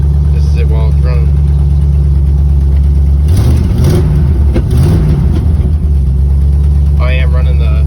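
An LS V8 in a swapped first-generation Chevy S10 truck idles loudly and steadily up close, with a brief swell in the middle, while a voice is faintly heard at the start and end.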